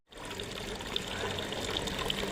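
Water streams steadily from the mouth of a fountain in Parma, a continuous close splashing pour with a bright, even trickling texture.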